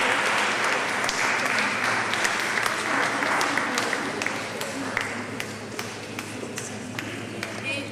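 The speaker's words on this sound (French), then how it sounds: "vous pouvez vraiment applaudir les enfants" An outdoor audience applauds a children's choir from the Choeur des Marronniers, with a steady dense wash of clapping lasting throughout and sharper individual claps standing out, slowly easing toward the end.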